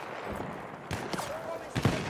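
A couple of sharp, distant shots crack out in a Battlefield game, separated by a brief quiet stretch, with faint background noise and a tone sweep in between.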